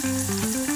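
Hot oil crackles and sizzles in a pan in a short, close burst, with no voices.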